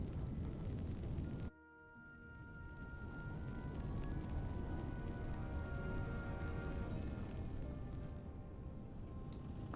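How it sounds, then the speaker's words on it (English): Distant explosion along railway tracks in the Tales of Arise video game: a sharp cutoff, then a sustained low rumbling roar with tonal hum that swells gradually and lingers, with no speech over it. "Sounds like there's an explosion along the tracks"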